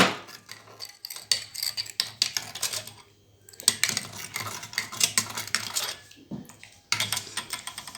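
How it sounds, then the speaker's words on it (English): A spoon clinks and scrapes against a glass of water with sand added, in quick, irregular taps, close by, with a few brief pauses between bouts of stirring. "And I am mixing it very well."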